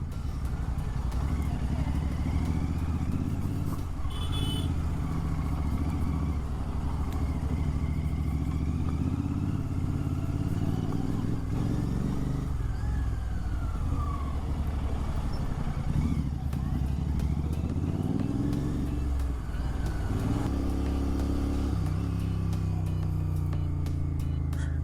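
A Royal Enfield Continental GT 650 motorcycle engine rumbles steadily while riding to a market, a continuous low throb with traffic clatter and passing noise, and a voice talking at times over it.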